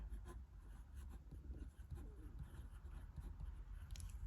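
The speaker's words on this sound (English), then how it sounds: "I'm writing with a Jinhao 159 with a Goulet" A Jinhao 159 fountain pen writing on 90 GSM Oxford Optik paper, soft scratchy nib strokes in short bursts, close and quiet, with faint bird cooing in the background.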